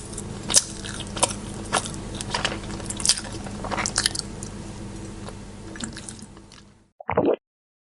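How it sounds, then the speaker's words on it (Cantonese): Wet, squelchy chewing and biting noises used as an eerie effect in a spooky tale, a close, steady munching with small crunchy clicks, ending after a short silence in one brief louder squishy burst. "仲會聽到有人起身食嘢嘅咀嚼聲"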